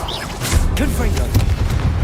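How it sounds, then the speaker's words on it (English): A Confringo blasting spell explodes in Hogwarts Legacy, a booming, crashing burst with whooshing debris that fills the short moment, while a voice shouts at the start. "Confringo!"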